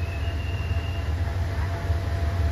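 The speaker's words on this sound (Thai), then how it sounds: "เรามาถ่ายรถไฟทางใกล้รถไฟธรรมดารถไฟชานเมืองแล้วก็รถเร็ว" A long-distance southern Thai train arrives at Hat Yai station during the Songkran festival, giving a steady low rumble with a faint thin squeal above it throughout.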